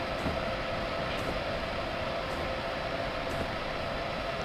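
Steady, loud rumbling drive of a train running in Train Simulator 2015, a continuous broadband roar with faint periodic clacks, no talk over it.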